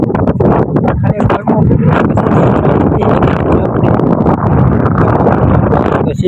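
Strong wind buffets a rooftop, roaring steadily and loudly with gusty rumbling against the microphone that lasts the whole time, with no pause and no voice audible.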